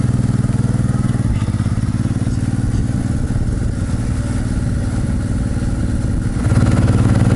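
Honda motorcycle engine running steadily on a European motorway ride, a loud, continuous mid-pitched drone with wind rush that swells slightly near the end.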